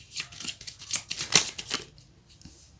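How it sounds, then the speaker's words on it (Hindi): Tarot cards shuffled by hand in a short burst of crisp riffling and flicking, close and fairly quiet, fading after about two seconds. "तो ये है कार्ड्स, इनको मैं शफल करूँगी।"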